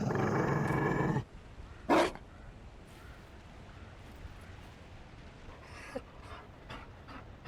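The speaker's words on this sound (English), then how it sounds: "You found a dog. They don't breed Mabari in Olay." A Mabari war dog in the video game Dragon Age: Inquisition, a loud burst of sound at the start, then low panting and faint growls with scattered short noises.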